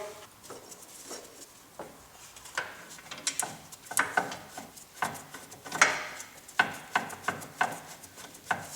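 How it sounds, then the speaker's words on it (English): Bolts being tightened on a caravan wheel hub during a rear wheel bearing job, a close series of quick ratcheting clicks and metallic taps in uneven bursts, growing denser toward the end, with no talking. "Just have to finish tighten up all the bolts on the hub."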